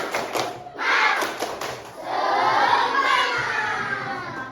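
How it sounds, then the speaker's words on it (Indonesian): A class of fifth-grade children in a classroom doing a rhythmic spirit clap, sharp clap bursts in a pattern followed by a loud group shout, with children's voices close and lively. "Agar lebih semangat, kita coba tepuk semangat dulu."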